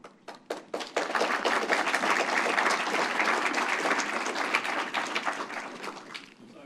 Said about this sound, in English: the clapping was there to give time for the person to bring the microphone